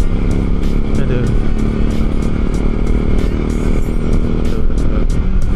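A motorcycle rumbles steadily up close over an uneven, bumpy road in Marunda, Priok, with clattering jolts, rattles and wind noise throughout and a rider's voice talking over it.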